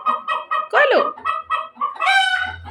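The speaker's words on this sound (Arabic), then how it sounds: "باي يا فراخ." Chickens cluck nearby in a quick series of short calls, with one louder squawk in the middle and a drawn-out cackle at the end.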